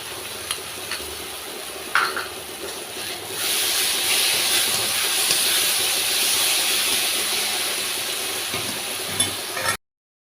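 Green chili paste hitting a hot pan for chicken kosha, a sharp burst followed by a steady loud hiss and sizzle that holds for several seconds, then cuts off abruptly.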